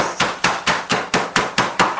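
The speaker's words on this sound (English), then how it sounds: "if you're going to use a hammer, for instance, put a tea towel over the top. Beat them up a bit first." A hammer beats bread sealed in a bag under a tea towel, striking in a steady run of about eight dull, padded thuds, each blow evenly spaced and close by.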